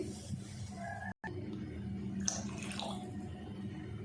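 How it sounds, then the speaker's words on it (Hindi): Water is poured into a cooking pot for matar pulao, a steady trickling pour with a short break partway through, heard close up and alone. "चलें अब इसमें पानी डाल देते हैं।"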